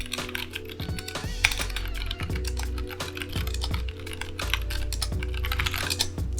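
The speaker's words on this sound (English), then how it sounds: "So I'm going to do a real quick type on it." Typing on a custom mechanical keyboard with unlubed stabilizers: a steady, fast run of crisp key clacks with deeper thocks from the larger keys, close and clear with no talking over it.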